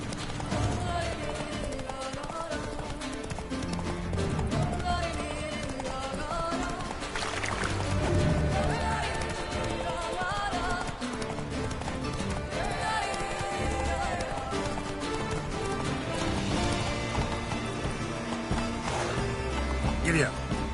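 A horse gallops in The Witcher 3: Blood and Wine, its rhythmic hoofbeats running steadily under game music and talk throughout.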